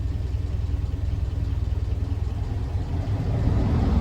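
A petrol Land Rover Series 2A 88in soft top idles steadily nearby, its low engine rumble holding an even pulsing throb that swells slightly louder near the end, with no talk over it.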